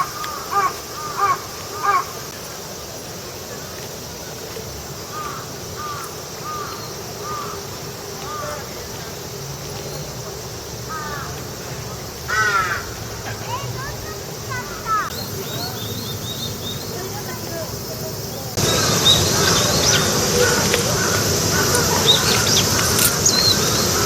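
Crows caw repeatedly around the bird-filled pond of Kiyosumi Teien, a Sukiya-style garden with three islands. Short bursts of calls and some other bird chirps rise over a steady outdoor background that grows louder near the end.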